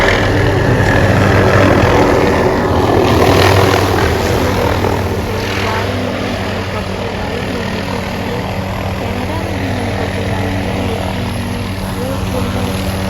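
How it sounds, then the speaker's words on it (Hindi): A steady, loud rotor-and-engine roar of a helicopter nearby at Niagara Falls, droning continuously with faint talk underneath. "ये तो बिल्कुल रोड पे उन्होंने प्लेटफॉर्म बनाया है जहाँ से हेलीकॉप्टर उड़ता है।"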